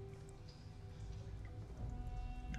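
Water dripping in a dark atmospheric area of the VR game Karnage Chronicles: faint, scattered drips and a soft rain-like patter over a low ambient hum, with no voices.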